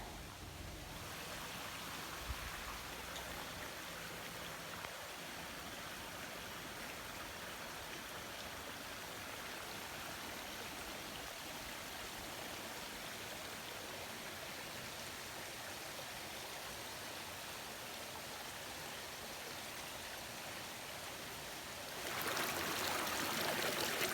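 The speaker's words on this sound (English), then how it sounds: "It's just a pile of rocks with water sound." Steady rushing water pours continuously over rocks and boulders at Dixon Springs State Park, Illinois, a dense broadband wash that stays constant throughout and swells slightly louder at the end.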